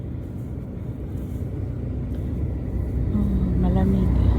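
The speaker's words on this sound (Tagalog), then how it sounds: "There's another truck guys coming." A truck approaches on a cold roadside near a forest, its engine rumble and tyre noise swelling steadily from moderate to loud as it nears, with no talk over it.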